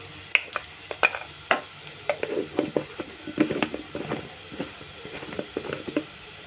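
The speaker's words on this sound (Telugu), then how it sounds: "ఇప్పుడు బాగా కలుపుకోవాలి." Bitter gourd fry with salt and chili is stirred in a pan, an irregular run of close scraping and clattering strokes over a soft sizzle, with no talk.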